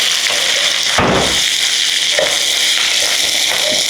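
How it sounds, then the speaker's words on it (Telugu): Bitter gourd with turmeric and salt fries on a high flame, a loud close sizzle with clattering stirring bursts and a sharp crackle near the start, no talking. "హై ఫ్లేమ్ మీద వేయించేస్తున్నాను చూడండి."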